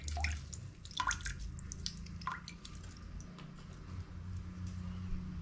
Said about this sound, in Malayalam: ഇനി നമുക്കിതിലേക്ക് ഒരു നാരങ്ങയുടെ നീര് ഒഴിച്ചു കൊടുക്കാം